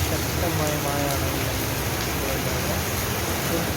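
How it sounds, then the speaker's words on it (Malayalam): Heavy rain pours steadily on a town street in Kumbla, a dense constant hiss of falling water that fills the whole stretch without letup. "ശക്തമായ മഴയാണ്"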